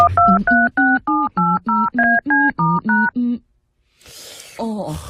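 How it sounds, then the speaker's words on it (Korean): Telephone being dialed: about a dozen evenly spaced, loud touch-tone beeps in quick succession, then a short pause and a voice speaking briefly at the end. "잠깐 있어봐. 전화 좀 할게."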